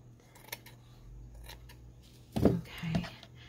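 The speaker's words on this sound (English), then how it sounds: "let me get my good scissors" Good scissors cutting lace for faux lace fans, a couple of close crisp snips near the end after quieter handling clicks and rustles.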